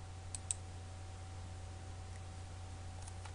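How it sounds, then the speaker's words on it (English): A computer mouse right-click sounds as a couple of faint, sharp clicks close together, followed later by a fainter one, over a low steady hum in a quiet room. "Right click paste."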